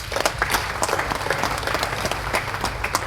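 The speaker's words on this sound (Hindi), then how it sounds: "तो एक बार वापस last year के लिए ताली बजा लेते हैं।" Audience applause at a business conclave and partners meet, a steady round of clapping from a crowd in a hall, sustained and fairly even for a few seconds with no talk over it.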